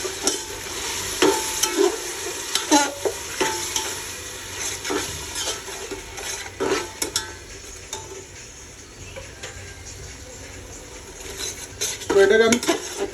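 Biryani masala with yogurt and ginger-garlic paste is sautéed in a pan: a constant sizzle under repeated metal spatula scrapes and clinks against the pot, busiest near the start and end.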